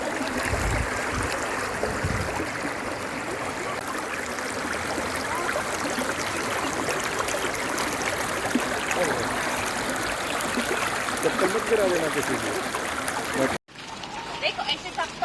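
Clear river water at a resort in Rishikesh rushes and burbles steadily in a broad, loud wash, dropping abruptly to a quieter stretch near the end.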